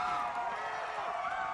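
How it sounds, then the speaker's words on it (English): An energetic Seattle studio audience roars with cheers and whoops, a dense, sustained crowd wash at close range, loud throughout the brief moment. "An energetic Seattle crowd."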